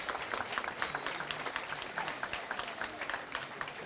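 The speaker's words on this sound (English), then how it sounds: "Another round of applause for our Primary School of the Year." Audience applause for Primary School of the Year winners at the Active Lancashire Awards 2022, steady clapping from a sizeable crowd holding at a moderate level throughout, with no talk over it.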